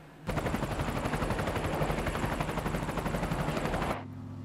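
A helicopter in an action film thunders close and loud, its rotor chopping in a steady rapid beat for about four seconds before cutting off abruptly.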